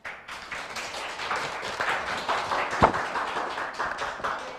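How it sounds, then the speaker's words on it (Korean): Audience clapping at a nurses' association general assembly, with steady sustained applause from a crowd in a hall, dense and even throughout with a few louder claps standing out. "좋은 말씀 해주신 한경애 의원님께 다시 한번 큰 박수 부탁드립니다"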